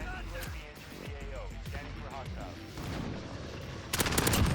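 Rapid bursts of automatic gunfire in Call of Duty Modern Warfare multiplayer, an MP7 submachine gun among them, rattle under a player's voice, ending in a louder volley.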